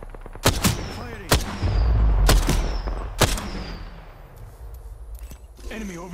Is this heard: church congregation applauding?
no